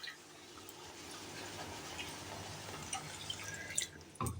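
Water pours into semolina in a pan on a low flame, making a faint, continuous trickle with small drips, quiet and close, followed by a brief clatter at the end.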